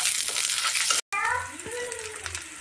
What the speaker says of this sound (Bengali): এবার আমি পেঁয়াজ কুচিটা দিয়ে দেব